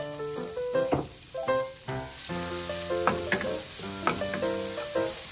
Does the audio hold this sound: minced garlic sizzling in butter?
yes